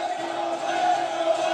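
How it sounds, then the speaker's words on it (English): Wrestling crowd in a Toronto arena roaring and cheering during a match, a sustained distant wall of voices with chants rising and falling, steady throughout. "And listen to this crowd."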